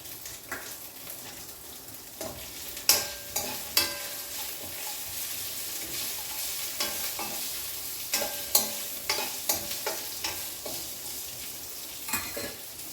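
Cumin seeds and green chillies fry in hot oil in a pan for a Telugu chukka kura roti pachadi, with a steady close sizzle and repeated scraping stirs and utensil knocks throughout.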